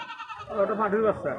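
Short, wavering bleats from a young crossbred goat kid at a livestock market, fairly close and loud, repeating a few times over about a second and a half.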